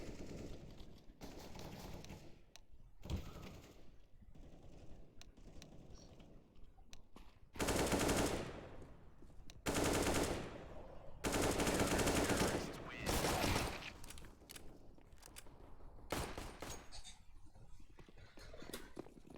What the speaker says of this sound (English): So can we hear some gunshots in this house?